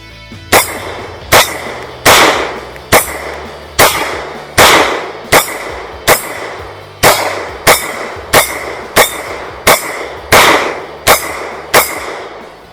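Fifteen sharp, loud gunshots from a Walther PDP F-Series 3.5-inch pistol, fired at a steady pace of roughly one every 0.8 seconds, each crack with a short ringing decay, no talk.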